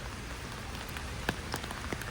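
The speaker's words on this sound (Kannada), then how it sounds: "ಇಲ್ಲಿ ತುಂಬ ಮಳೆ ಆಗ್ತಿದೆ." Heavy rain pours steadily at a houseboat dock in Alleppey, a dense, even hiss of drops hitting surfaces, with a few sharper nearby splashes and drips standing out.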